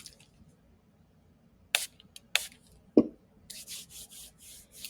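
Several short hissing spritzes from a spray bottle, a couple of sharp clicks, then a run of rapid soft puffs, close and quiet.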